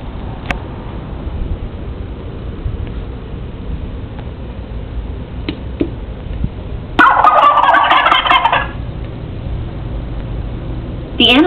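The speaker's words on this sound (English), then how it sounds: "The animal that made that sound was a wild turkey." A wild turkey gobbles once in a loud, rapid, rattling burst lasting over a second, rising out of a quiet outdoor background with faint scattered clicks before and after.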